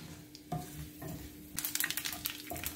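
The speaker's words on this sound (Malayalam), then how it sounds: "അതൊക്കെ ഒന്ന് മൂത്ത് നല്ലൊരു മണം വരുന്നിടം വരെ നമ്മളൊന്ന് ഇളക്കും." Cumin seeds sizzle steadily in hot oil while a spoon stirs them in short scraping strokes; the frying hiss swells louder toward the end, close by with no voices.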